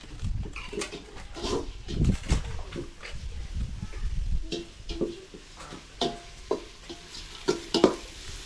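Onions and spices sautéing in a pan for a Tamil home-cooked curry feast, with repeated scraping stirs and a low sizzle throughout, close and fairly quiet, with no one talking.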